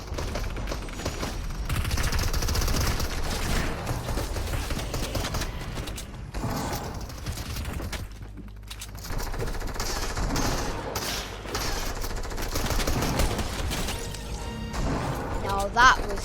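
Gunfire in the video game Fortnite Battle Royale: bursts of rapid automatic shots and crashing impacts fill most of the stretch, with a short quiet gap midway.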